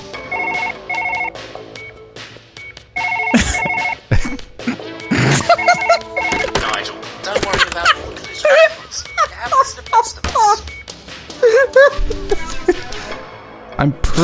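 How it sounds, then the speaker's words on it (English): A telephone rings in the Surgeon Simulator video game, a repeating two-tone electronic ring in short bursts near the start, followed by scattered game clatter and a voice talking and giggling over it. "Oh, the phone's ringing."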